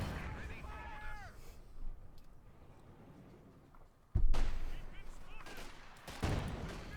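Gunfire from the video game Company of Heroes 2 in a Wehrmacht versus US Forces match, with bursts of shots and rumbling impacts that grow louder midway, under a commentator's steady talking.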